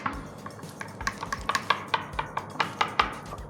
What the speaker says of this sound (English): Okay, mix it well. Give it a little stir.